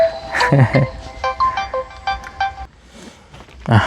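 A phone ringtone plays a stepped electronic melody of short, clear tones for several seconds, with brief bits of voice near the start and end.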